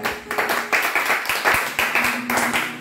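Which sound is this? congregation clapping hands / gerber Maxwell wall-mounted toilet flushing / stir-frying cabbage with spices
congregation clapping hands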